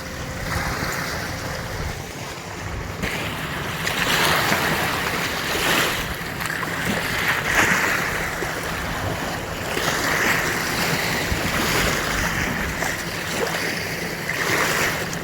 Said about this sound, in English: for a lake, it's a lot of waves.